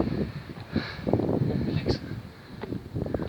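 Wind gusting across an exposed viewing platform atop the bomb ballistics building on Orford Ness, a low steady rumble buffeting the microphone with brief louder gusts throughout.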